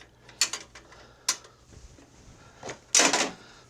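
A metal socket drops into the Briggs and Stratton engine of a John Deere riding mower, giving a few sharp metallic clinks and rattles, with a louder clattering burst near the end, close up and with no talking.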